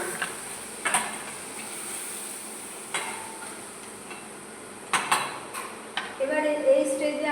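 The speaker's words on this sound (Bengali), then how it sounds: "এটাকে ভালো করে নাড়াচাড়া করতে হবে" Biryani ingredients with fried onions are stirred in a pot, producing sparse, faint metallic clinks and scrapes of a spoon against the vessel at irregular intervals, with a brief voice near the end.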